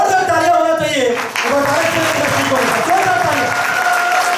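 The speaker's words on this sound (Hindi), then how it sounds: "सो जोरदार तालियां होना चाहिए" Audience clapping at a direct selling seminar, a continuous wash of many hands under a voice that talks and tapers at the start, then sustained crowd applause with faint background tones.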